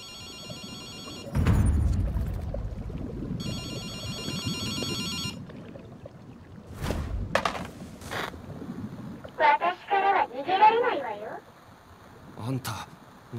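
A telephone rings in GhostWire: Tokyo, with bursts of electronic trilling repeating in two clear rounds, followed by low rumbling effects and spoken voices.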